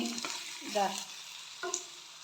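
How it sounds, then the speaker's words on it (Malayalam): Chopped ivy gourd tipped into a pan of softened frying onions, with a few soft thumps and brief stirring scrapes over a quiet, steady sizzle, no voices. "ഈ കോവക്ക അരിഞ്ഞത് ഇതിലേക്ക് ഞാൻ ഇട്ട് വെക്കുന്നു"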